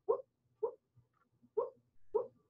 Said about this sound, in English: my dreaming puppy barking under my desk